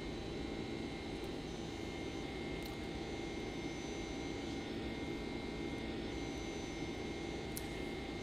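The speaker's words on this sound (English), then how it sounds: "We are flying the Flight Factor 767-300, and this is X-Plane 11." Steady, even jet engine roar from a Flight Factor 767-300 airliner in the X-Plane 11 flight simulator, a Hawaiian Airlines flight from Tahiti to American Samoa, droning continuously and moderately loud with no talk.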